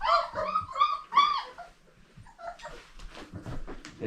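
Several dogs whimper and yelp in high, whiny bursts, followed by scattered barks and rustling, fairly close and without talking.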